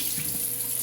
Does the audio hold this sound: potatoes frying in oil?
no